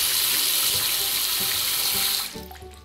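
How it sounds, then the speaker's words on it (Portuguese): Running water pours steadily into a clogged home kitchen sink, loud and continuous, then cuts off near the end, leaving quieter draining and trickling sounds. "Olha o tempo que ela tá demorando para esgotar a água da pia."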